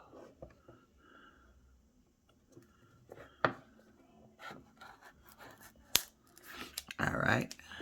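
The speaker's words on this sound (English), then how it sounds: "So we're going to cut around the middle." Scissors snip through earbud packaging in a few quiet, separate cuts, with crinkly handling noise between them and a louder rustle near the end.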